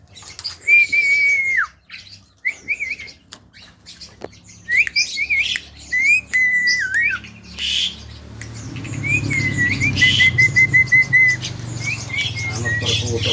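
A jalak kebo myna bird squawks and chirps in short bursts of whistled calls, with rustling and flapping between phrases and a denser stretch of chatter near the end, all close and fairly loud.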